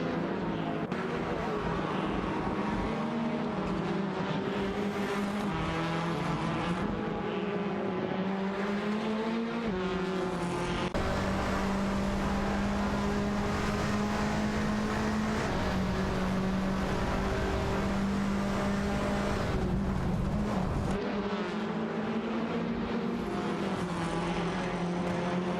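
Race cars in a video game race, their engines droning steadily at a moderate level, with pitch shifting through gear changes and occasional cuts between cars.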